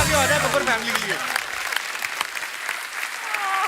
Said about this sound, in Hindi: जोरदार तालियां हो जाए बब्बर फैमिली के लिए।